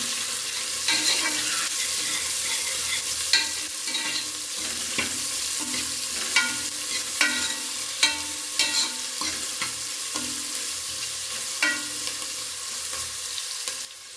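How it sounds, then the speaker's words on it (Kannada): Chopped onions fry in a pan for a breakfast dish, giving a steady close sizzle broken by regular scraping and tapping strokes of a spoon as they are stirred, with no talking. "ನೋಡಿ ಇವಾಗ ಈರುಳ್ಳಿನ ಹಾಕೊಳ್ತಾ ಇದ್ದೀನಿ"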